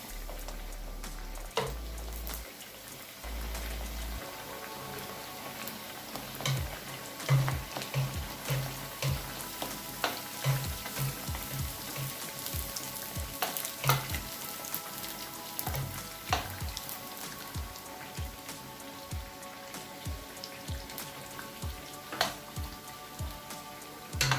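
Pişi dough fries in hot oil, a continuous dense sizzling hiss with scattered pops and crackles close up, lasting throughout with no talking.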